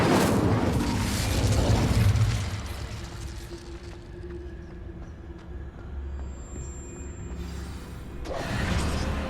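The Incendio fire spell is cast in Hogwarts Legacy. A loud, broad whooshing blast opens and then fades into a low, rumbling tail, and a second burst swells near the end.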